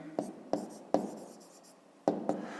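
Handwriting on paper during a fifth-grade maths exercise: a series of short, soft scratching strokes in irregular bursts, close and quiet, while a voice speaks throughout.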